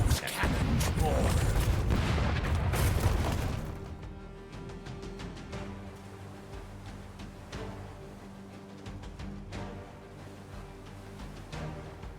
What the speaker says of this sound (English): Let's hear those cannons roar.